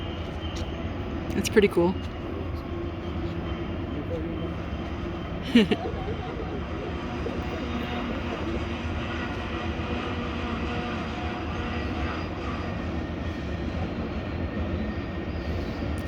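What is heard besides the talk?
train passing through the Spiral Cut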